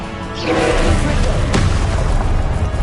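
A Confringo spell from the video game Hogwarts Legacy bursts in a loud, close boom that swells at once and rumbles on for a couple of seconds over game noise.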